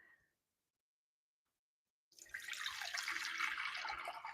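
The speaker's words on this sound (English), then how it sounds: "I'm going to pour the water in it to amplify the frequency" Water poured into a singing bowl: after a couple of seconds of silence a steady, splashing stream starts and keeps running close and fairly loud to the end.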